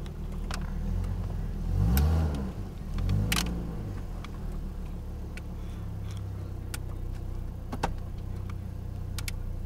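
A Ford car with a clogged tailpipe is hauled out of a stuck spot, its engine revving in two strong surges near the start before settling into a lower steady run, punctuated by a few sharp clicks and knocks.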